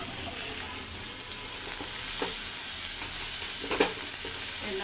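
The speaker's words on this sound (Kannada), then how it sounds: "ಈ ಪಲ್ಯ ಒಗ್ಗರಣೆ ಇದನ್ನು ಹಾಕಿ" Vegetable palya tempering stirred in a hot pan, a constant close sizzle with a few soft scraping clicks of the spoon, and no voices.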